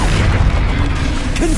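Bombarda spell explosion in Hogwarts Legacy, a loud, deep boom with a rumbling tail that fills the short moment close up.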